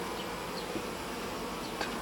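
Dense, steady buzzing of many honeybees in an open beehive being inspected, with bees clustered and clinging together near fresh comb; a continuous close drone with a few brief louder passes.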